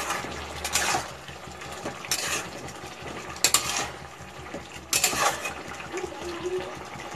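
A spoon stirs egg and cauliflower curry in a pan, coming through as several distinct scraping, sloshing strokes spaced a second or so apart. The sound is close and moderately quiet, with no talk.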